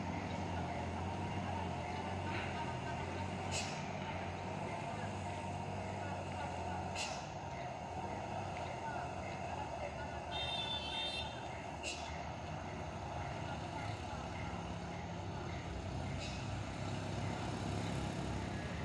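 A heavy tanker truck's engine droning steadily nearby as it attempts a second climb up a busy hill after failing once, with occasional hisses and clanks over a constant low rumble and some voices in the background.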